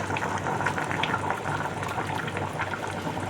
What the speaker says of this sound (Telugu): చాలా బాగా ఉడుకుతుంది కదా.